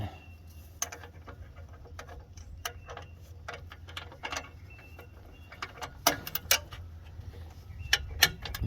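A wrench working on an O2 sensor of a 2003 Mercedes E320, scattered sharp metallic ticks and clicks at irregular intervals over a quiet background, close by and without talk.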